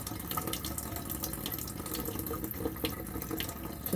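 A tap runs steadily into a sink while something is rinsed under it, a continuous splashing hiss at moderate distance with no talking.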